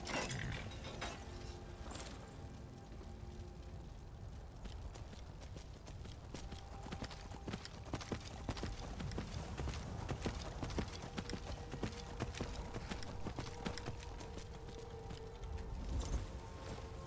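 Horse hooves clip-clop steadily while riding in the Skyrim video game, a continuous rhythmic patter over a dense bed of game ambience, with no talking.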